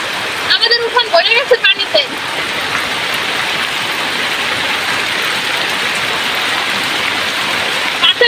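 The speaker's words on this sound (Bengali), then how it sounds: "আজকে বৃষ্টি পড়তেছে কি পরিমাণ" A dense, steady roar of heavy rain fills the air continuously, with a brief voice at the start.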